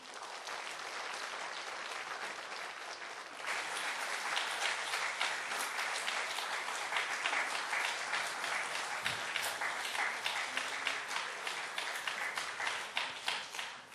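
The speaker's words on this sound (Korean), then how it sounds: "인사드리실 때 뜨거운 박수와 꽃다발로 축하해 주시기 바랍니다." A church congregation applauds at a new-member course completion ceremony, the sustained clapping swelling fuller partway through and continuing dense and steady, heard from a distance in a large hall.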